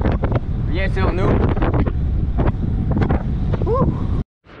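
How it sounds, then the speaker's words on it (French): Wind buffets a microphone beside the St. Lawrence River, a steady loud low rumble that runs nearly throughout and cuts off abruptly at the end, with a person talking over it. "le vent près du fleuve vient sur nous."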